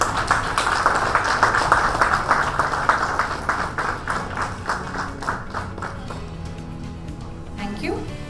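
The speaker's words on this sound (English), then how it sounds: "A big round of applause, please." Audience applause at an HR conclave held in a hotel in Chennai, brisk group clapping that is strongest at first, then thins and fades over eight seconds, with faint voices and music toward the end.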